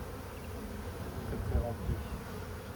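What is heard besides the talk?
honeybees buzzing in an open beehive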